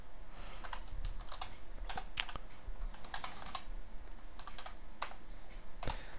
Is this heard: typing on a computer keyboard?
yes